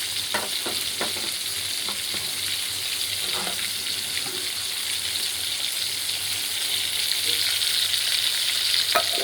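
Shrimp pieces fry in a pan for a prawn malai curry, a steady bright sizzle running throughout with a few sharp crackles and light stirring sounds, close and fairly loud.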